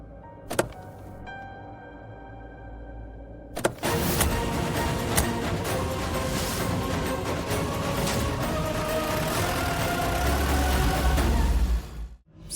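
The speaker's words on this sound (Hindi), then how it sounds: "मैं गाड़ी चलाती हूँ," A few clicks and thumps like a car door or window give way to a steady, loud road and engine roar as the car is driven, running for several seconds before stopping abruptly.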